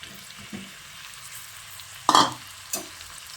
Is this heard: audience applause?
no